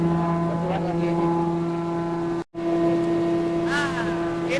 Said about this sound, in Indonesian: Bagaimana cara penggunaan mesin motornya itu?